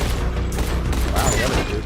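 Gunfire in the video game Dying Light: The Beast, a burst of rapid shots and booms that runs under a player's excited voice and game noise.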